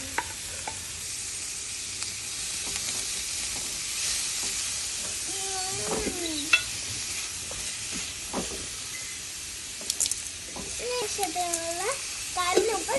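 Chopped onion dropped into hot oil in a home kitchen pan, a steady hiss of frying with occasional scraping and clinks, while a voice and faint chatter sound intermittently over the sizzle.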